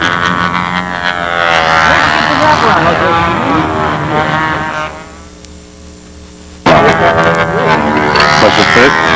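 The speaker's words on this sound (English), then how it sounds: "Isn't Noel's plane loud?" Model airplane engine fitted with a muffler running loudly on a flying field, a steady buzzing drone that drops away briefly then roars back abruptly, with people talking nearby.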